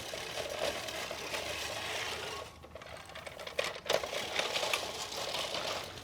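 A non-powered push reel lawn mower cuts grass with a steady, soft whirring clatter of spinning blades, dipping briefly midway before resuming, with no voices.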